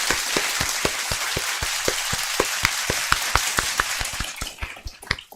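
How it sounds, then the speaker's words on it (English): A big round of applause from a crowd, dense overlapping hand claps in a steady burst that thins out toward the end. "A big round of applause to the OGs and the new Gs in the chat"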